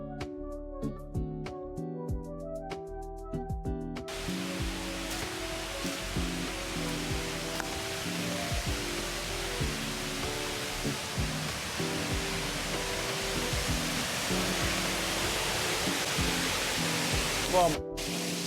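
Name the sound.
waterfall and river rushing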